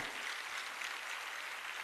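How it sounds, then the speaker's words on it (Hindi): A seated crowd rises for a standing ovation at a state-level award and assistive-device distribution ceremony on World Disability Day, with dense, steady clapping that fills the space evenly and continuously without a break. "खड़े होकर लगातार तालियों के माध्यम से अभिनंदन, वंदन, स्वागत।"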